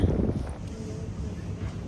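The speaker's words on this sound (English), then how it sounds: "It is windy again this morning." Low rumbling wind buffets the microphone steadily outside an airport in Genoa, Italy, on a windy morning, a dull roar with no clear voice over it.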